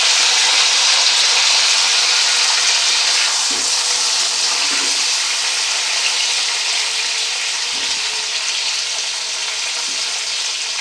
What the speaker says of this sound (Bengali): এবার আলুটা আমি কড়াই চাপিয়ে তাতে এবার আমি আলুগুলো ঢেলে দেবো, দিয়ে ভালোভাবে ভাজতে থাকবো।